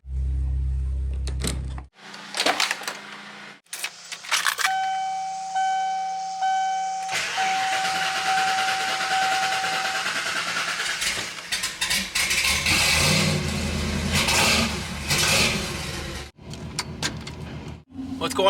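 A supercharged, nitrous-equipped 1995 Ford Lightning pickup drives on the street, its engine droning and shifting in pitch over changing road noise, with a few sharp clicks and pauses.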